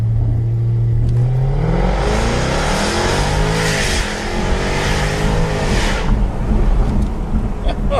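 A 2014 Jaguar F-Type engine roars under hard acceleration, loud and close, the note climbing through the gears with sharp shifts and a throaty exhaust crackle toward the end.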